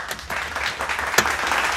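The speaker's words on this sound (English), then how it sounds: "Yes, let's all clap for that." Close, lively clapping from a small group indoors, a brisk burst of hand claps sustained at even loudness for the whole short stretch.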